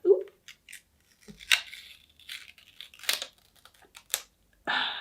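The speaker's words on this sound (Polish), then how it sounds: "I teraz, kiedy to otworzę, jest oczywiście ten zabezpieczający papierek." Korean BT21 cosmetic packaging being opened and its protective paper seal torn, a close series of sharp crinkles, rips and rustles with short pauses between them, ending in a longer tearing burst.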